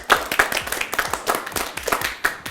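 Children applaud a classmate with a short burst of quick, uneven hand claps, close and lively, with a faint voice in the background.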